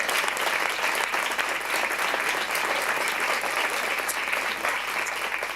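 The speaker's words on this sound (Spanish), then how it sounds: "Así que gracias también y un aplauso para ellas." An audience at a tribute event for Lorca in Granada applauds steadily, a dense, sustained wash of clapping that stays loud and even from start to finish with no talking over it.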